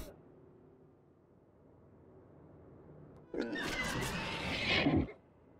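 A horse in the video game Dawn of Man gives a loud, close whinny lasting under two seconds, rising out of a quiet in-game background.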